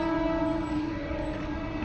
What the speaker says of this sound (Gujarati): ટ્રેન આવી ગઈ છે, જાય છે.